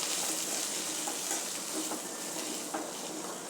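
Chopped tomatoes sauté in a pan for a chickpea kuzhambu, giving a steady, close sizzle and crackle of frying, with a few soft stirring scrapes and no talking.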